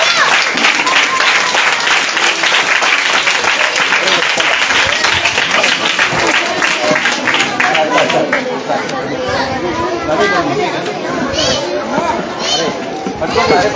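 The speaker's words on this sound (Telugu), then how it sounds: "గట్టిగా కొట్టండి అన్న చప్పట్లో" At a Teachers Day school event, an audience of children claps loudly and steadily, with lively chatter and kids' voices mixed into the applause throughout.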